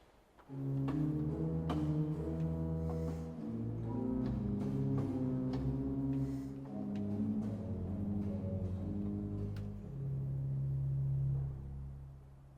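Sustained low pipe organ pedal tones move through a slow phrase of held notes from Bach's Jesu, meine Freude, BWV 610, steady and fairly loud, with no voices.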